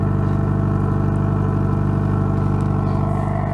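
A Mazda Miata engine idling steadily on its stock exhaust, a continuous low, even drone held close and loud for several seconds, ending abruptly.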